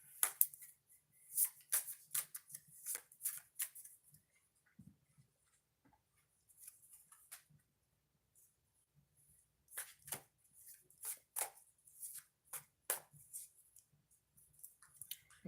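Tarot cards shuffled by hand, a series of quick crisp riffling and slapping bursts in separate clusters, close and fairly quiet, with no talking.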